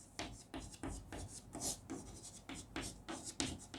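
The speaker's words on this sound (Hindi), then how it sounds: "तो मैं एक तरफ लिखता हूं प्लेटो का साम्यवाद।" Chalk or marker strokes scrape across a board in a steady run of short rubbing bursts, close and moderately loud, with no talking over them.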